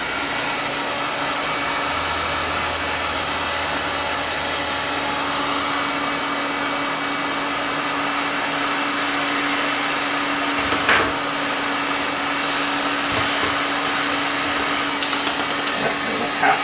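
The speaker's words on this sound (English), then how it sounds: "We'll just turn the heat gun back on, heat the board up, see if I can push them through." A heat gun blows steadily on a circuit board from an Arris MTA unit, a continuous broadband hiss with a low hum, close and constant, with a few faint clicks and knocks near the end.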